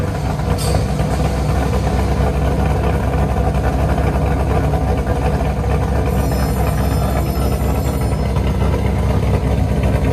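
Chevy Camaro SS with a 6.2L V8 and a loud aftermarket exhaust, idling with a heavy, steady low rumble that holds constant close by without clear revs.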